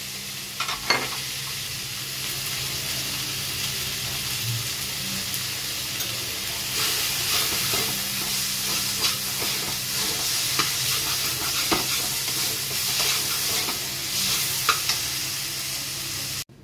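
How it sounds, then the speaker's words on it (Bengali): Red tomatoes and turmeric sizzle and spit in hot oil throughout, with scattered crackles and a few scraping stirs, close and steady, no voices. "কারণ লাল টমেটোটা তো ভাজতে হবে"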